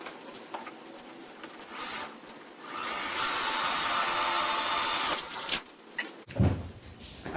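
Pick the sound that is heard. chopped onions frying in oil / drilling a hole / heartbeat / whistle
drilling a hole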